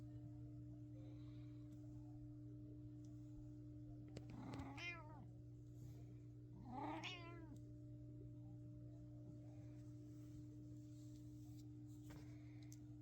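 A cat meows twice, a few seconds apart, fairly close, over a steady electrical hum in an otherwise quiet room.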